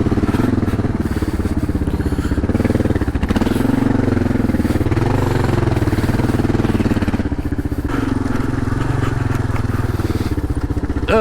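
A Kawasaki KLR650 motorcycle rides off-road on an adventure trail, its engine droning loud and steady throughout, with rattling and clatter from rough ground and bumps. Short, faint bits of speech come through at moments.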